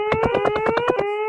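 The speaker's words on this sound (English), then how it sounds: "Suppose you hear that alarm again." Loud pulsing alarm blaring in a rapid, evenly spaced series of about eight harsh tonal bursts, then breaking off into a brief steady tone.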